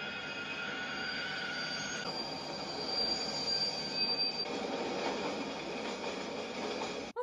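A train rolls past on the rails in the film Footloose (1984), wheels squealing in high, drawn-out tones over a steady rumble, loud and close throughout.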